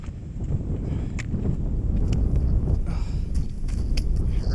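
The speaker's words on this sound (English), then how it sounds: "we've hit some wind." Wind gusts on a high alpine trail in Sequoia National Park near Mt. Whitney make a steady, low buffeting roar against the microphone, close and constant throughout.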